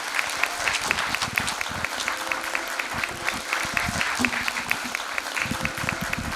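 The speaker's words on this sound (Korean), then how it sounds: "여러분 큰 박수 부탁드립니다." Audience applause at a sociology lecture on low birth rates and an aging society, a steady, moderately loud patter of many hands clapping throughout.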